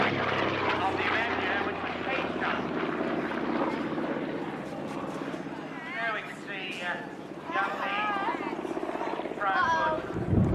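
A Japanese wartime fighter's propeller engine drones steadily as it rolls and banks in aerobatics at an air show, a continuous moderately loud roar heard under a commentator speaking over a public address system.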